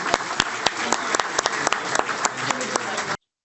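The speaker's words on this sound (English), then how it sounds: "how about another round of applause for our excellent panel?" Audience applause for a panel at an SEC and CFTC roundtable meeting, a dense steady clapping crowd that stops abruptly after about three seconds.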